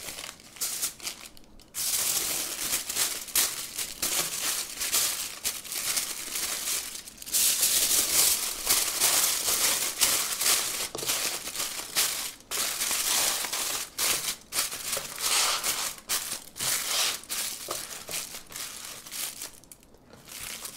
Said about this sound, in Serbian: I slaninu ću dodatno uviti u aluminijumsku foliju.